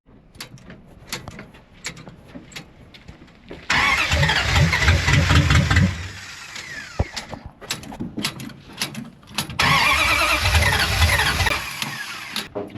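A deserted 1973 Dodge Charger engine cranks and catches twice, with clicks and clunks before it. Each attempt brings a loud, rough mid-pitched roar that runs for a couple of seconds and then drops away, close by and with no talk.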